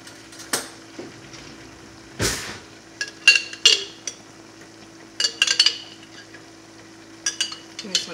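A spoon stirs basil pesto into cooked pasta in a pot, making scattered scraping clinks and soft wet knocks in short bursts against a quiet steady hum.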